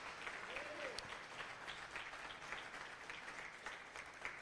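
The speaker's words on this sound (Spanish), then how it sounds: "ese aplauso se lo da, déselo al Señor" A church congregation applauds the Lord during a sermon, with sustained, dense clapping throughout and a voice speaking over it.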